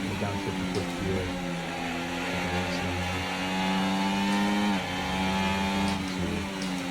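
An F1 car engine downshifts to fifth gear, a high, strained whine that drops in pitch with a sharp gear change near the end before steadying again.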